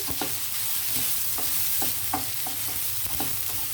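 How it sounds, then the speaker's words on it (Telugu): Chopped onions fry and sizzle in a pan under a steady hiss while a spoon scrapes and stirs them in repeated sharp strokes, close and moderately loud, with no talking. "ఉల్లిపాయలు చక్కగా వేగాయి కదండి"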